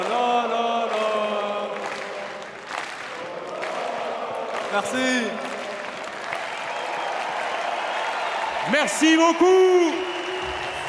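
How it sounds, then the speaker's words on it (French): Large crowd applause and cheering at Court Philippe-Chatrier, Roland-Garros, as PSG players present the Champions League trophy, steady and full under someone speaking French, with whistles rising near the end. "Un tonnerre d'applaudissements et innovation."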